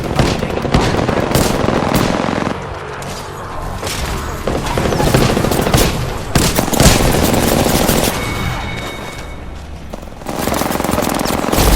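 Dense automatic gunfire and sharp impacts rattle almost nonstop in an Apex Legends match, with bursts layered over explosions and game effects at a loud, close level throughout.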